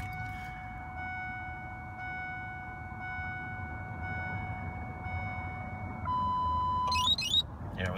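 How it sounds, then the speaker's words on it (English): A 1999 Ford F250 diesel, with 177,459 miles on it, gives off a steady electronic alarm tone, then a brief shift in pitch and a couple of short chirps close by over a low idle. "I gotta wait for the 2 chirps on the alarm."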